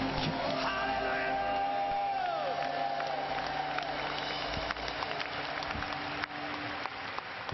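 A large church crusade crowd in Korea bursts into sustained loud applause with shouts and whoops, a dense continuous roar while a voice rings out over the top.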